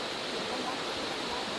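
Steady, dense rush of falling water at a cascade in the cirque de Saint Même, close and continuous without breaks, a broad wash of noise filling the whole moment.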